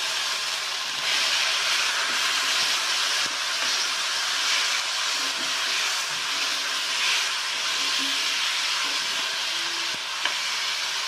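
Ginger, garlic and tomato frying in oil for an egg masala curry, with a loud, steady, dense sizzle running throughout and faint stirring noises beneath it.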